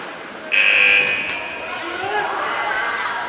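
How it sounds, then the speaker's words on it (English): A loud, shrill buzzer blares for about half a second over crowd noise at an under-16 women's ice hockey game in a rink, followed by the murmur of the crowd and a commentator talking. "And the buzzer sounds"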